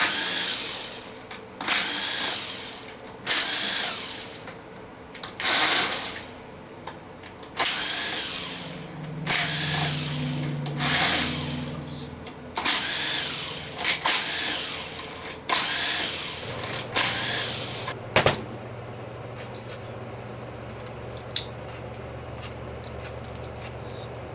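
A power tool spins out 10mm-head valve body bolts on an L60E transmission with no reverse, sounding as about a dozen sharp, loud whirring bursts separated by short pauses before it falls quiet.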